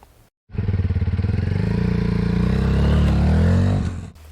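Malaguti GP 125 underbone motorcycle engine, started up and running close by with a loud, steady buzzing idle that holds for several seconds before cutting off.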